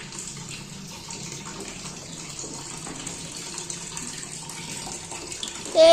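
Water gushes steadily from a tap under pressure, a continuous broadband rush that holds even through the clip and swells louder in the final moment, with no talking.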